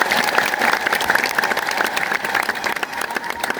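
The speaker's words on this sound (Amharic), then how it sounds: "ጭብጨባ ላይ ንፍገት ይታያል" A church congregation keeps up sustained applause, a thick uneven wash of many hands clapping at once, fairly loud and continuous throughout.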